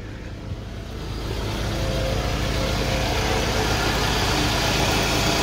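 A 2009 Scion xB engine starts and settles into a steady idle after a belt tensioner pulley repair, a loud, close, constant rumble that rises slightly over the first second and then holds even.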